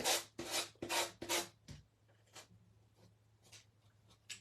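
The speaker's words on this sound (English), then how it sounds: "That just gives it a nice, clean sanding there." Hand sanding on wood, four brisk rasping strokes in quick rhythm, then lighter, scattered rubs fading off, close and quiet with no talk.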